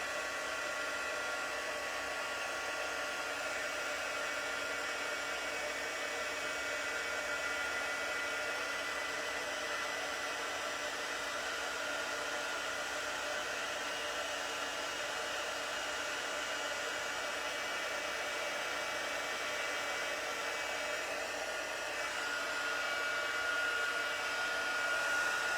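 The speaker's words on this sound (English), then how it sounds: "now I'm going to use the heating tool to dry it" A heat tool dries embossing powder with a constant, steady blowing whoosh and hum that holds at an even level throughout, nearby and moderately loud, with no talking.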